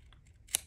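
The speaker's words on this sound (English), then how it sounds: "I'll just flip it over and cut it with my scissors." A single quick snip of scissors cutting through a layer of paper scrap at a craft table, faint and close.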